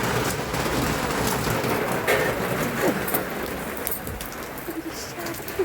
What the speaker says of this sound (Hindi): कितनी तेज बारिश लग गई है, बहुत तेज बारिश